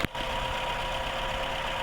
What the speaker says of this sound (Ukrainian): Двигунчик працює так.